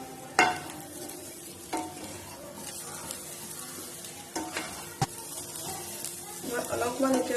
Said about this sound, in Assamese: মই অলপমান এতিয়া অকণ সময় ভাজি থাকিম।